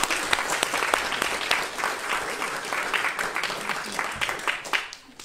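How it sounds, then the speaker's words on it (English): Audience applause at a children's Christmas pageant: a warm, dense round of clapping from a crowd, steady at first and thinning toward the end, with no talk over it. "Can we give them a big round of applause?"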